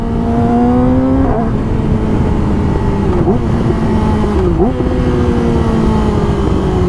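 A 2019 Yamaha R6 sport motorcycle engine revs loudly and steadily through its power band, with pitch climbing and then briefly dropping at two gear changes.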